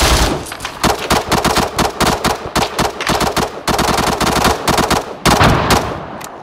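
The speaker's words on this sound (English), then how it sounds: "Bravo 260, you're taking fire through the trees at the main MSR." Loud, close machine gun fire in the video game Arma 3 rattles in long rapid bursts with only brief gaps, the shots evenly spaced and punchy for the whole stretch.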